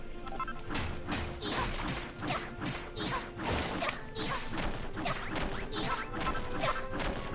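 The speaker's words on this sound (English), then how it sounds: "There is a lot of just smashing and breaking and material collecting in the early game of this" Blocks being smashed and broken in Dragon Quest Builders 2, a steady run of repeated crashing, thwacking hits at a brisk rhythm, close and fairly loud over a continuous game background.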